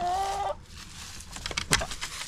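Chickens pecking at a pumpkin, with a short, clear cluck at the start followed by scattered soft pecking taps and rustles, close by and fairly quiet.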